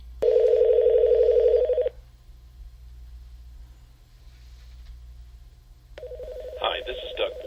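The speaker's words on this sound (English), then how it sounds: "Let Doug's phone continue to ring." An office desk telephone rings with a loud electronic trill in two bursts, a long ring up front and a second ring starting near the end, separated by a low background hum.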